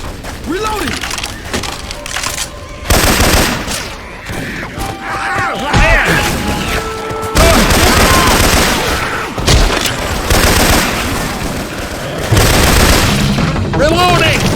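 Syphon Filter weapon effects fire in Left 4 Dead 2, with repeated loud booming shots and bursts over ongoing game clamor, while character voices call out between volleys.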